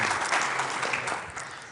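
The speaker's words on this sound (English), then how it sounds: "So, round of applause for Mr. Wetherall." Conference audience at a records management summit applauds, a steady wash of many hands clapping together at moderate distance, with no talking.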